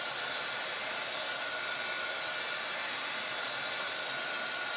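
A handheld heat tool blows over a Chalk Couture transfer to dry it, making a constant loud airy whoosh with a faint steady whine, close and unbroken for the whole stretch.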